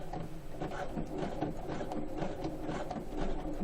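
Sewing machine set to a very short stitch length, slowly stitching through thick layers of denim jeans, a quiet steady mechanical clatter with a soft rhythmic needle tick throughout.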